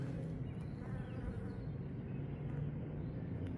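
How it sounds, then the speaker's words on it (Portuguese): A dense, steady buzzing of many bees hovering close by around lavender flowers on a street in Kanab, Utah, a continuous low hum with no voices. "parecem lavandas e muitas abelhas, ó."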